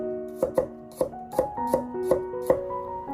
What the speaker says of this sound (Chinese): 把大蒜切成薄片，